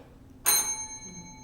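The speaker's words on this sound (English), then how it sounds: "Just ring that bell." A single bright bell strike at a front door, sharp onset followed by a clear ringing tone that decays slowly over about a second, close and fairly loud against a quiet background.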